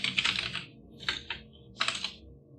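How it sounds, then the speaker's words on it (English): Three quick bursts of keys clatter on a computer keyboard, each lasting about half a second, with short pauses in between; close and fairly quiet with nothing else heard. "So if I type into this, it should be able to capture it anyways."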